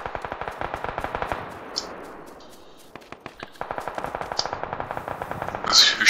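Rapid automatic gunfire from a Tommy gun in PUBG crackles in steady bursts, pausing briefly and then resuming at a similar fast rate, with some echo and faint voices around it.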